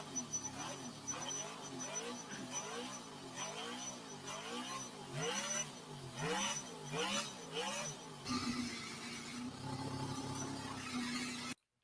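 A miniature working four-cylinder V8 model engine revs in repeated rising and falling sweeps, each burst climbing and dropping in pitch, then settles into a steadier idle near the end; voices can be heard in the background.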